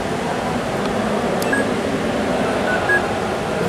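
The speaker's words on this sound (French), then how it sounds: "pour mettre les variateurs en route, ils émettent quelques petits bips pour te dire qu'ils sont en fonction" Speed controllers on a radio-controlled Riva boat model beep on power-up, a couple of short, faint electronic tones over a steady background hum outdoors.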